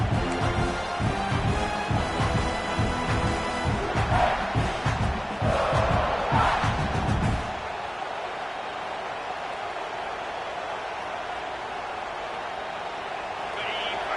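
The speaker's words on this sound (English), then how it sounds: "the crowd coming to life here, trying to help this defense down in the red zone" Stadium crowd noise at a college football game between Arizona State and South Carolina, a dense loud roar with commentary over it for the first seven seconds, then dropping to a steady distant murmur.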